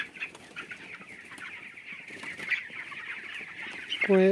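Chickens cluck and chatter steadily inside a large poultry farm shed, many birds layered close and far, with a louder squawk near the end and no speech.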